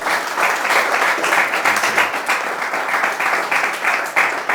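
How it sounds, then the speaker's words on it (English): Audience applause fills the room steadily and loudly, dense continuous clapping from a crowd with no pauses, no speech over it. "Hand of applause again for Gilmore Tee"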